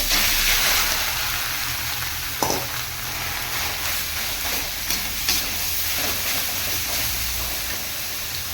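Grated carrots go into a hot pan with crushed cardamom for carrot halwa, making a continuous close sizzle broken by a few scraping stirs.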